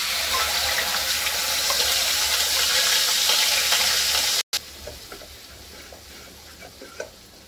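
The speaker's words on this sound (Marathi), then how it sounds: "आता आपण हे वाटलेलं वाटण टाकूया।" Ground masala paste for besan bhaji drops into a hot pan with hissing and sizzling and some stirring, loud and steady, then cuts abruptly to a quieter, softer sizzle.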